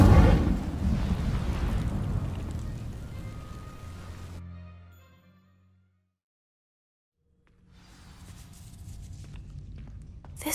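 A loud roaring burst of the Incendio fire spell igniting dry vines in Hogwarts Legacy, crackling and rumbling, then fading to near silence before a softer rustling rises again.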